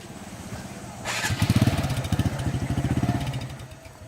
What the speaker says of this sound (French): Vous voyez, la moto même, ils sont sur 3 qui passent.